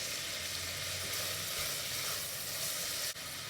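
Onions for prawn biryani frying in hot oil, a steady close sizzle with occasional stirring scrapes and no voices.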